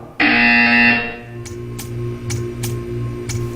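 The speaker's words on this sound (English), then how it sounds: "You will hear a buzzer." A buzzer in the video game Portal 2 sounds one loud, harsh electronic blast lasting under a second, followed by a low hum and a few soft, evenly spaced clicking ticks.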